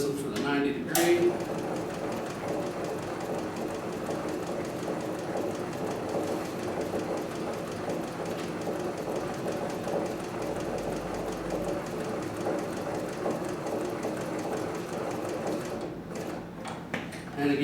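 Leather sewing machine stitching a handbag, running steadily and close for nearly the whole stretch, pausing only briefly near the start and again near the end as the work is turned.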